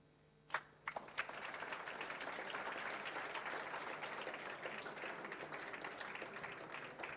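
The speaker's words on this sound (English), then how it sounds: "applaud the young man" At a mathematics awards ceremony, a few sharp claps start things off before the audience breaks into steady, full applause that carries on for several seconds at a moderate distance.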